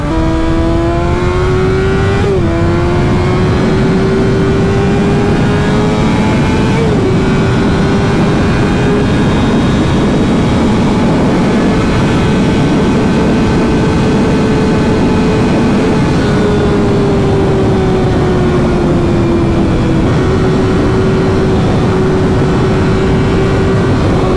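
A motorcycle engine holds high revs at about 9,000 RPM while riding on the freeway. It gives a loud, steady whine that climbs and dips slightly with throttle changes, with rushing wind underneath and no talking.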